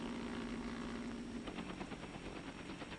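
A military helicopter flies over a road convoy in Vietnam, giving a continuous rotor drone with steady rapid blade chop that grows more pronounced partway through. Nearby and loud, with no voices.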